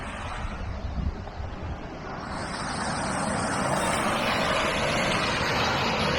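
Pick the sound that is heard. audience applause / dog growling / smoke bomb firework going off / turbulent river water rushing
turbulent river water rushing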